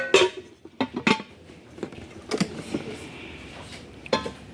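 Metal cookware clinks and clatters in scattered bursts as a lid is lifted and set down, with quiet pauses between the knocks.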